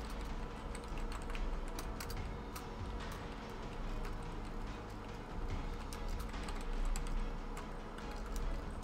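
Steady typing on a computer keyboard, close and fairly quiet, the rapid irregular clicks of keys running continuously with brief pauses, over a low background hum.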